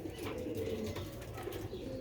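Pigeons, including a pair of Sialkoti pigeons offered for sale, coo and call steadily and close by over low background noise, with no talking.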